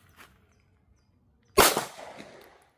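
A SIG Sauer P320 or Glock 17C pistol fired once during a self-discharge test: a single loud, sharp report at close range, followed by a short decaying echo, after near silence.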